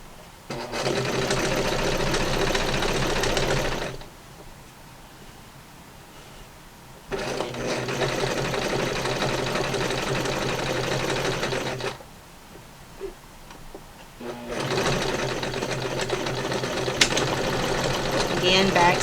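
Sewing machine back stitching a fabric face mask, three loud sustained runs of rapid mechanical stitching separated by quieter pauses, with speech in between.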